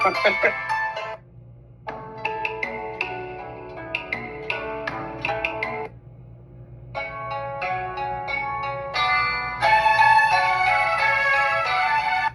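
An Asian-style phone ringtone plays as a bright melodic tune of plucked and chiming notes in short repeated phrases with brief pauses, loud and close, over a faint low hum.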